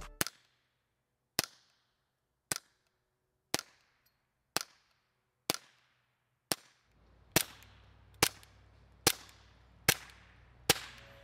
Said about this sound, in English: did not think the Seg was gonna be that quiet when ran short on a pistol, but when ran wet, think sounds very nice